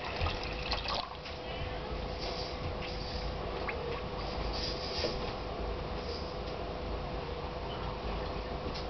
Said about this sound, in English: to that I'm going to add 4 cups of white vinegar